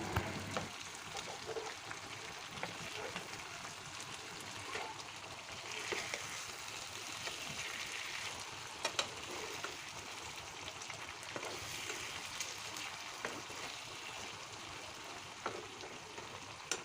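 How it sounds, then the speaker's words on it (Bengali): Boal fish pieces fry in a pan over medium heat and get turned from side to side, giving a steady, moderately loud sizzle with scattered clicks and scrapes throughout. "চুলার আঁচটা মিডিয়ামে রেখে আমি দুপাশ ভালো করে একটু কষিয়ে নেব উল্টিয়ে পাল্টিয়ে।"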